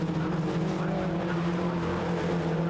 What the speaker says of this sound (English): Scott Adam, the blue car with the orange stripes, number 38, carving his way through traffic